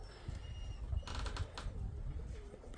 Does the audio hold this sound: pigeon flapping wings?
yes